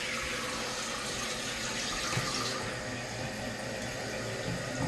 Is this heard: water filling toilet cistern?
yes